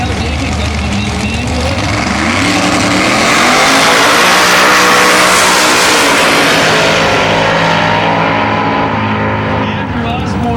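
Two drag race cars run side by side on an eighth-mile strip, a nitrous-assisted 572 cubic inch big block Chevy 1968 Camaro and a 388 cubic inch small block Ford Fox, their engines a loud sustained roar that swells and fades with commentary over it.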